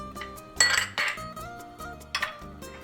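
Rice being stirred in a metal pot on the stove, with a spoon scraping and clinking against the pot in a few short, close bursts of clatter.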